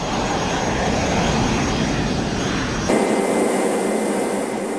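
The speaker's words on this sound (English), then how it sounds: "we let the aircraft fly itself into and out of those heavily defended areas" An F-117 Nighthawk stealth jet flying, a loud, steady broadband engine roar that shifts in tone partway through, with no voices.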